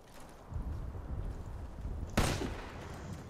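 Gunfire in the Fortnite video game from a sniper shooting at the players' base, heard as a low rumbling clatter of distant shots followed by one sharp, loud crack near the two-second mark.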